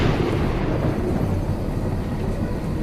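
Thunder and heavy rain in a storm, a steady dense roar of downpour with deep rumbling throughout, loud and continuous with no voices.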